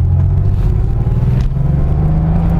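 Air-cooled Porsche 911SC engine running after being started, a steady low rumbling idle heard close and loud for a few seconds with no talk.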